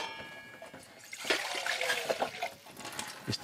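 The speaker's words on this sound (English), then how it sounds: "Safety first, put some water in." Water pours into a cooking pot of noodles and leftovers on a stovetop, a steady splashing trickle of moderate loudness with a few brief splatters.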